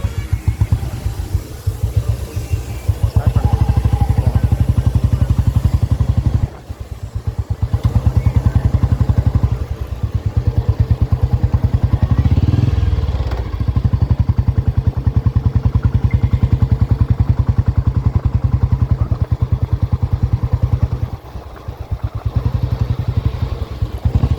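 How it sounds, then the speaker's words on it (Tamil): Steady thumping exhaust of a single-cylinder Royal Enfield Bullet Deluxe motorcycle being ridden, loud and close, with brief dips as the throttle eases, no voices. "சைலன்சர் சவுண்டை தவிர வேறு எந்த சவுண்டுமே இல்லை."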